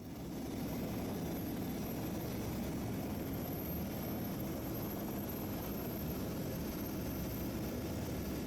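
A helicopter lifts off in Antarctica for a flight-seeing trip to Cape Hallett, its rotor and engine producing a loud, steady, close roar that holds from start to finish.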